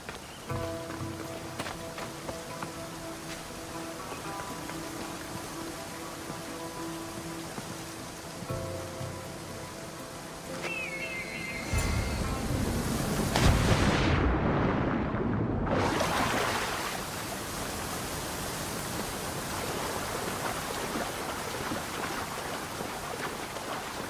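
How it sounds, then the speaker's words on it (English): A waterfall in Assassin's Creed Odyssey roars as steady broadband rushing water, softer at first and then swelling louder and closer midway, continuing without any talk. "This is the waterfall."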